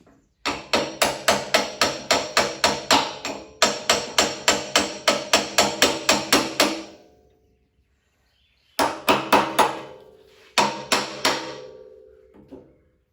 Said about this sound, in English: Now get me a hammer.